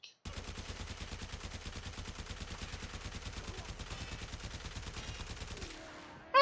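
The Fulmin weapon fires in automatic mode in the video game Warframe, a rapid, steady stream of evenly spaced shots lasting about five seconds with no voices over it, then stopping abruptly.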